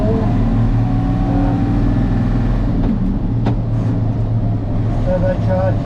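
A Unimog UL 1700 truck with a turbocharged six-cylinder engine of about five litres pulls off in fifth gear, a loud steady low engine drone throughout with faint background voices.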